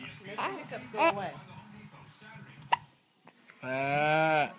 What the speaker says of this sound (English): He mad because he can't talk because he got the hiccups.